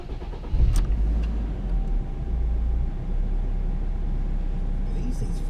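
A 1995 BMW E36 318i turns over and catches, a short burst of cranking giving way to a low, steady engine rumble that carries on at a moderate level.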